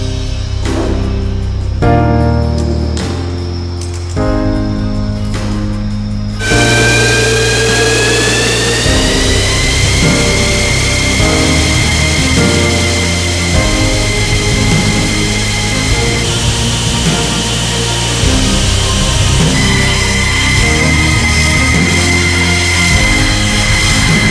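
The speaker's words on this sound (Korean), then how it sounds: "고요했던 비행장의 굉음이 울리고 압축된 공기가 수분띠를 만들며 엔진 속으로 빨려듭니다" Military jet aircraft engines roar on an airfield, a loud, sustained blast of rumble that swells into a bright, rising turbine whine as the engines spool up and hold a steady, piercing pitch.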